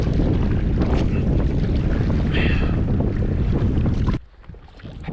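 A canoe paddles across Wabakimi Lake, with dense wind and water noise rushing steadily before dropping off abruptly into a quieter hush near the end.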